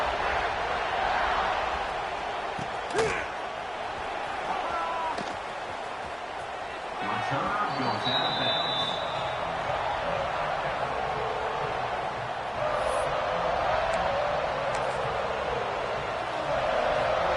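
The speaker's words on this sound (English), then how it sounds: "this crowd is buzzing after that last score" A college football stadium crowd buzzing after a score, a dense steady roar of many voices heard at a distance with occasional thuds, under an announcer's play-by-play.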